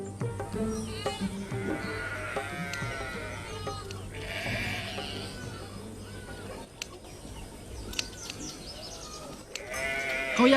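A flock of sheep and lambs bleating repeatedly, several overlapping calls near and farther off, over a steady outdoor background.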